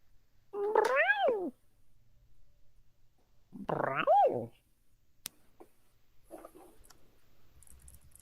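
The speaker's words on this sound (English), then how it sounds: "So squeaky kitten." A squeaky kitten gives two drawn-out, high wavering meows a few seconds apart, fairly close, followed by faint clicks and soft rustling in a quiet room.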